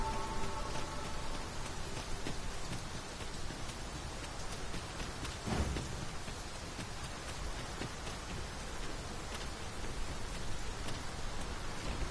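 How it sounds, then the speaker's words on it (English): Steady rain pours down in the fantasy game Dragon's Dogma 2, a dense, even hiss of drops that holds throughout with a brief muffled thump partway through and no speech. "Must it rain now?"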